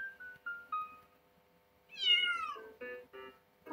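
Cat meowing in the video game Find Out: several short, clear meows in a row, then a longer rising-and-falling meow followed by two more brief calls, close and alone with no talk.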